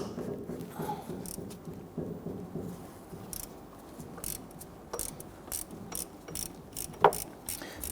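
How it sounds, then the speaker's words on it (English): 1/4-inch drive ratchet with a 12 mm deep socket working a bolt during alternator removal on a 2011-2015 Kia Sorento 2.4L: soft, quick repeated clicks in close, uneven bursts with a faint metallic clink. "I'm using a 1/4-inch drive unit, 12 millimeter deep socket on my ratchet"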